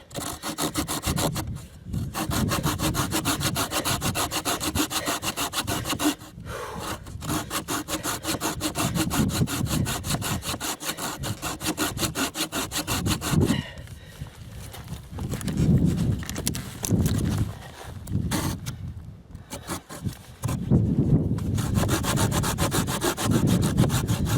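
A hand saw, Bahco Laplander or Silky Gomboy, cuts through wood in rapid, rhythmic rasping strokes, loud and close, with a few brief pauses between bursts of sawing.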